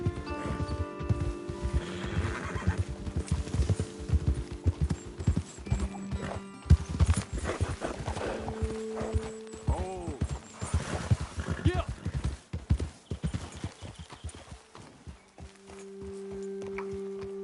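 Hooves clip-clop steadily on hard ground as horses walk in the video game Red Dead Redemption 2, with an occasional snort or whinny and people speaking over the footsteps.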